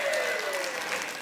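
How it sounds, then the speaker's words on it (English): A church congregation applauds in a short, dense burst of steady clapping from many hands, filling the room at an even level throughout. "everybody give him a round of applause"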